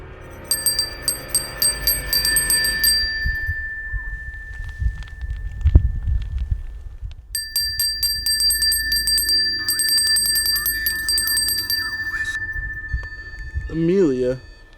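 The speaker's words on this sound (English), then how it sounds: "Follow the sound of this bell." A small hand bell rings out clearly at an ancient stone circle in Ireland, repeated bright jingling bursts in two spells separated by a pause, while a person speaks nearby.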